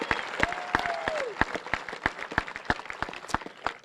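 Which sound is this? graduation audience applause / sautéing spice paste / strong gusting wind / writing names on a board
graduation audience applause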